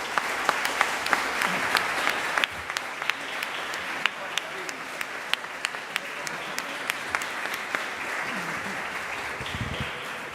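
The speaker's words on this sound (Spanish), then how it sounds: "Martín Coan, a quien le ofrecemos un fuerte aplauso" At a legislature ceremony honouring writer Martín Kohan, an indoor audience claps steadily for about ten seconds, a dense even patter of many hands with a few sharper individual claps standing out.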